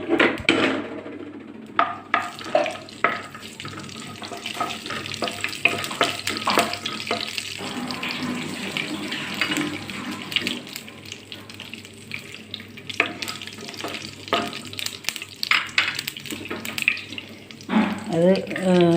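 Whole fennel seeds crackle and sizzle in hot oil in a pan while cooking pasta, a steady broadband frying hiss with scattered pops and clinks, with a voice talking over much of it.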